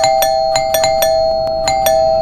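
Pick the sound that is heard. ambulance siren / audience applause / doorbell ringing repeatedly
doorbell ringing repeatedly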